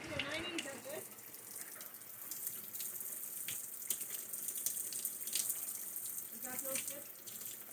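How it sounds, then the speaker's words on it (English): A shower runs hot with a steady broadband hiss of falling water, continuous throughout, with a few brief voice sounds at the start and near the end. "I do it a little bit hotter, since you like a hotter shower."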